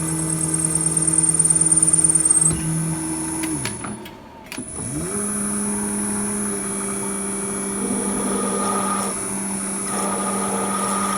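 Drill press motor running steady and loud with a high whine, winding down to near silence around the middle, then spinning back up and holding a constant drone as drilling continues.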